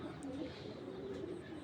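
Racing pigeons coo softly and continuously, a low murmuring burble close by with faint higher bird sounds in the background.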